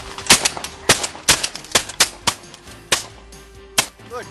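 Rapid shotgun volleys fired at snow geese on a Manitoba goose hunt: about a dozen sharp, loud reports come in quick irregular bursts, each cracking cleanly over open ground, with faint bird calls near the end.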